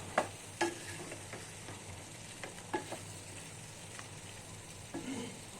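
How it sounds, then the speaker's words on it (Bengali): Packet halim spice mix stirred in a frying pan, heard as a soft continuous sizzle with scattered light scraping and tapping of the spoon, close and fairly quiet, without talking. "প্যাকেটের মধ্যে যে মশলাটা থাকে সেটা পুরাটাই দিয়ে দিব আর হালকাভাবে একটু নাড়তে থাকবো।"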